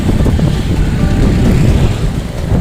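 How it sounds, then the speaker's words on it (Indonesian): Strong wind beside Situ Cipule, a lake along a provincial road, giving a loud, continuous low rumble and buffeting that stays steady throughout, without speech. "anginnya kencang sekali di sini"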